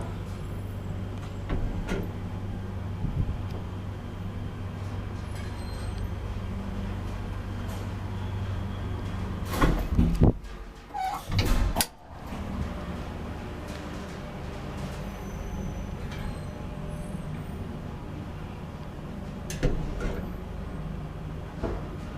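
An old Valmet-Schlieren traction elevator in a five-floor Helsinki apartment building runs with a steady low mechanical hum, broken midway by a few louder clunks and rattles, then settling back to its drone.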